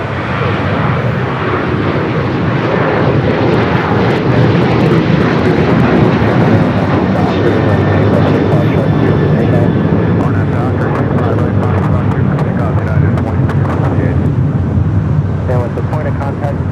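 A jet airliner departs from LAX with a loud, sustained engine roar and rumble throughout, while people talk over it.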